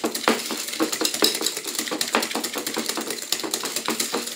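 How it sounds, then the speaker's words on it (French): A simple hand whisk beats an egg mixture for tiramisu in a bowl, giving a steady run of quick, clicking metallic taps against the sides, close and fairly even in rhythm with no talking. "vous voyez avec un fouet tout simple, ça marche aussi très très bien"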